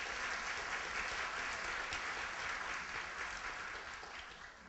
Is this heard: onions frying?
no